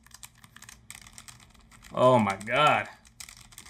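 Typing on a new brushed-metal NZXT keyboard gives rapid clicky keystrokes in short bursts, close and clear, with a person's brief exclamation in the middle.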